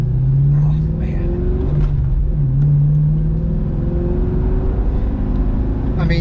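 A 2002 Corvette C5 Z06 drives along with a loud, steady engine drone and low rumble, the pitch rising and settling as it accelerates, heard from inside the cabin under occasional faint noises.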